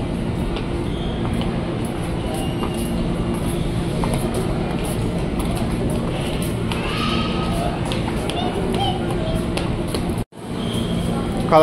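A KRL commuter train pulls away on a curved track at Bogor station, its steady rumble and wheel clatter loud and continuous, with a brief drop near the end and faint station sounds and voices underneath.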